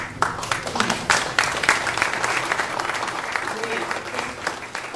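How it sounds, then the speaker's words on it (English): At the announcement of the 2018 BC Summer Games in Cowichan, an audience claps in a lively, uneven burst with a few sharp, close claps standing out, and voices can be heard mixed in. "clapping, I'm not done"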